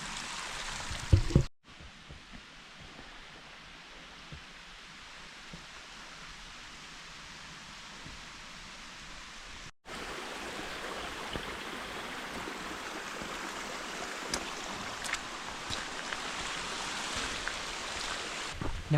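Water running across the Upper Yosemite Falls trail in Yosemite National Park, a steady broadband rush that holds evenly near the listener throughout, briefly broken by two short drops.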